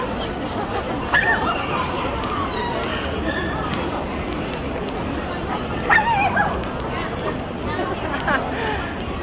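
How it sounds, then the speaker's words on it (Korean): Several dogs yip and bark among a crowded indoor pet fair at KINTEX exhibition hall in Ilsan, short scattered barks over constant crowd chatter and nearby talking. "얘네들이 동시에 막 짖으면 난리 났는데."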